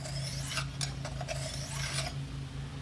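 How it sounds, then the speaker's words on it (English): Steel knife edge being sharpened with a raspy, repeated grinding stroke, several close passes in a steady rhythm over a constant low hum, with no one speaking. "every time you sharpen the edge of a knife like that"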